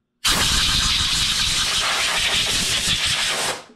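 Sustained, loud, close hiss of compressed air blowing out a dusty Can-Am belt drive and clutch housing, starting abruptly and running steadily for over three seconds before cutting off, with no talking.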